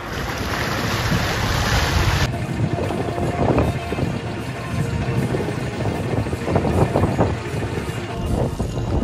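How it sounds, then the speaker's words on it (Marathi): A fishing boat far out at sea off Satpati, Mumbai, approaches through strong wind: heavy, continuous wind rumble and buffeting mix with churning water and engine noise, loud and close throughout. "बघा बोट कशी आलते मित्रांनो."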